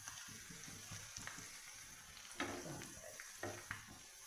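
Ginger, garlic and small chilies fry in oil in a pan for a garlic pickle, a soft steady sizzle with scattered spoon scrapes and stirring knocks, quiet and close.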